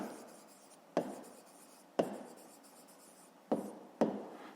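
A pen writes on paper, giving a soft, close scratching with four sharper taps spaced about a second apart, each followed by a fading stroke, with no talk over it.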